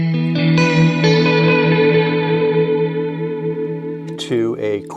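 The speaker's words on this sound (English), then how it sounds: "And then this is another delay set" Guitar chords ring with a delay effect set to quarter and eighth notes, repeats trailing behind the strums, before a brief voice cuts in near the end.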